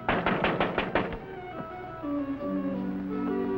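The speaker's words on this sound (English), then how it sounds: "That man knocking on the door." A rapid series of about seven hard knocks on a door, close and distinct, followed by low sustained music.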